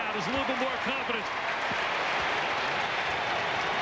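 Spectators at a Duke vs. North Carolina college basketball game roar and applaud in a dense, steady wash of crowd noise, with a commentator talking over the start.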